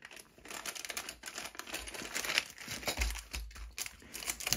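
The plastic bag of a Lego City Maxi Pack crinkles and rustles continuously as it is handled and opened up close, with uneven bursts of crackling and a few low thumps.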